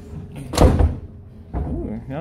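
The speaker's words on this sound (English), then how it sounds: "you don't have to slam the door" A door slams shut with a single heavy thud. A voice follows shortly after.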